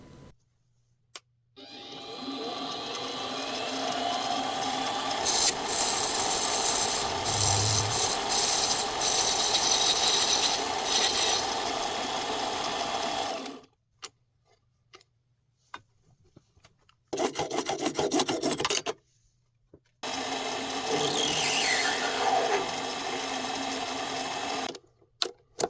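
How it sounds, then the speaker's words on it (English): A mini lathe grinds and whirs steadily as a tool parts a metal rod, a long continuous run followed by a few shorter bursts of machining with quiet gaps. "I'm using my mini lathe to part this rod"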